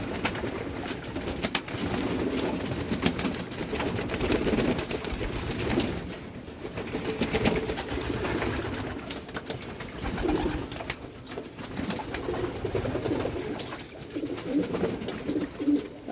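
Caged pigeons coo softly and repeatedly nearby, with overlapping low throaty calls and occasional light rustling and fluttering, and no speech.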